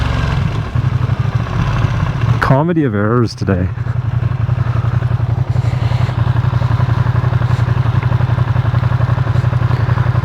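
A motorcycle cruising at 100 km/h, captured on a Rode Wireless ME mic, gives a loud, steady engine drone with heavy wind roar throughout. A rider talks briefly over the engine noise.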